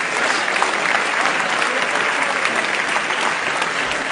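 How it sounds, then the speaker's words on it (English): A stage-show audience gives a round of applause for volunteers, loud, dense and continuous clapping close by without talk. "let's give these volunteers a nice round of applause"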